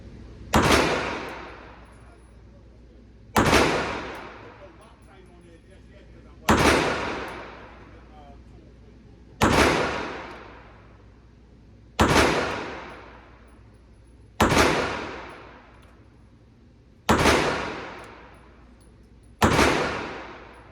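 Eight evenly spaced shots from a Canik Mete MC9 pistol, each a sharp loud crack with a ringing decay, about two and a half seconds apart, with no talking.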